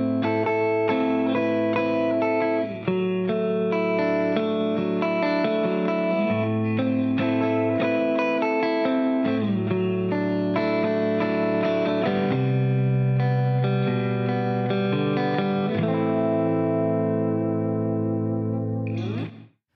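Electric guitar played through an Amplifier No. 7 tube amp with a 5Y3 rectifier and both normal and bright volumes blended, ringing sustained chords and melodic lines with a clean-to-slightly-gritty tone, steady and loud throughout, ending in a sudden cut.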